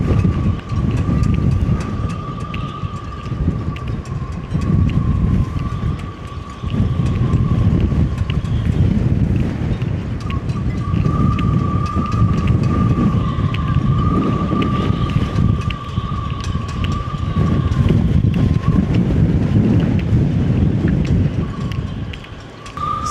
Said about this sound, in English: the wind rattling through the masts